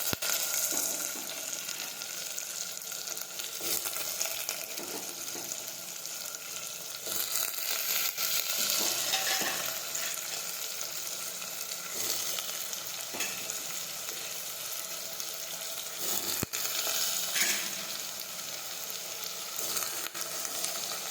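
Chopped eggplant and potatoes frying in a pan, stirred continuously under a loud, even sizzle with frequent scraping strokes of the spatula throughout.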